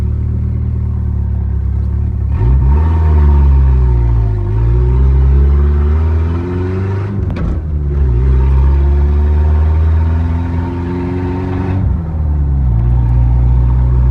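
A manual Ford Fox Body Mustang engine revs at partial throttle, rising and falling in steady swells over a constant idle rumble, loud and close, with no talking.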